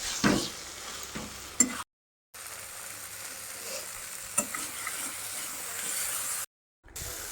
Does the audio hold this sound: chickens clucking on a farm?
no